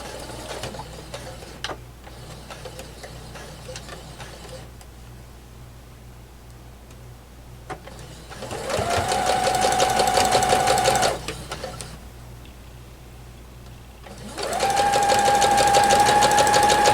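A sewing machine stitches a Grandmother's Choice quilt block in two bursts of rapid, even whirring, each about two to three seconds long, separated by quiet handling sounds and light clicks.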